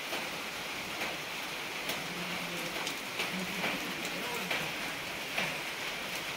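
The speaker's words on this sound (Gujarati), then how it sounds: "વરસાદે ઘીણો ઝીણો ચાલુ થઈ ગયો છે" Light rain falls on a hillside near a temple, a fine steady hiss of drops with a few sharper taps close by, faint and continuous throughout.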